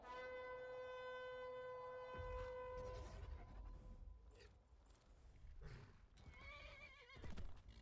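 A horse in the video game Skyrim lets out a long, loud whinny, followed by heavy hoof thuds and snorting, ending with another rough neigh.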